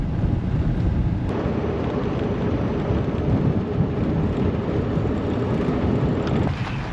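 Rainstorm moving in over a campsite during an overland expedition, with a loud, constant roar of rain and wind buffeting the microphone and a low rumble beneath it, with no talking.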